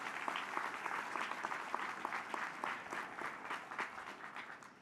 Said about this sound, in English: Give yourselves a big round of applause, ladies and gentlemen.